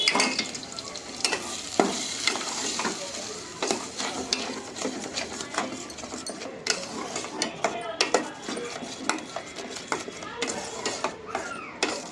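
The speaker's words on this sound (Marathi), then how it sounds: "आणि ते एकदा या मसाल्यामध्ये परतून घेऊया" Onion and coconut paste sautéed in masala in a pan for a Malvani prawn curry, with steady scraping stirs and faint sizzling, and brief clatter running throughout.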